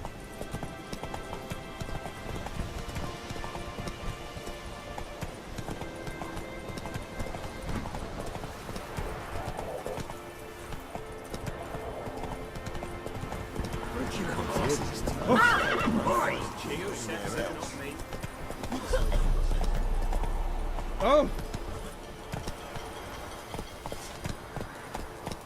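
Horse galloping in The Witcher 3, steady clip-clop hoofbeats with occasional neighs, mixed with game music and ambience and some talk from game characters.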